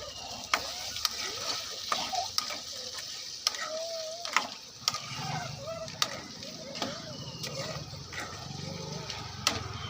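A spoon scrapes and taps against a pan as crab curry is stirred with onions frying in oil, giving regular sharp clicks over a soft steady sizzle, with faint voices in the background.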